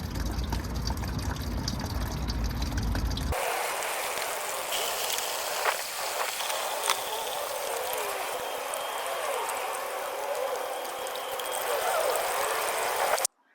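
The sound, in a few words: coolant draining from a Ford Mustang GT S197 radiator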